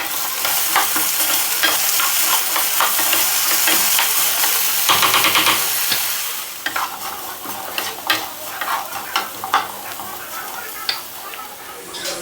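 Breakfast taco filling sizzles loudly in a hot pan over medium heat, with scraping and stirring sounds. The hiss eases slightly partway through while sharp crackles continue.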